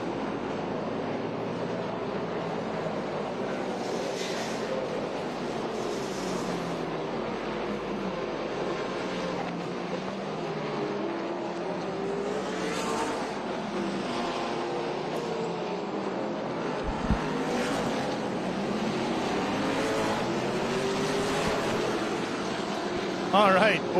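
Trans Am racing car engines snarl and whine along Portland International Raceway, their pitch rising and falling as cars pass near and far in a continuous roar.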